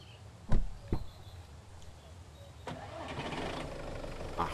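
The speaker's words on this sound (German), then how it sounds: "dann fahren wir doch mal unseren Wagen" A car engine cranks and starts in the survival video game Mist Survival, two sharp mechanical bursts followed by a steady, close idling rumble with a short rev near the end.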